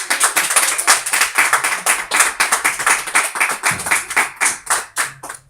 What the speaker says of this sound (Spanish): Pueden darle a Dios un aplauso entonces por eso.